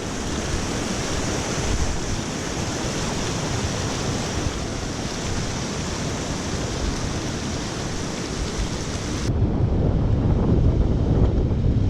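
Fast-flowing water rushing on a mountain pass in Ladakh, a loud, steady broadband roar with wind buffeting the microphone, growing heavier and rougher near the end.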